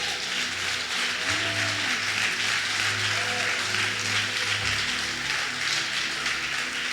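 Church congregation applauding in praise during a Spanish-language sermon, a dense, steady wash of clapping that fills the whole stretch without break, with low organ or keyboard tones sustained underneath.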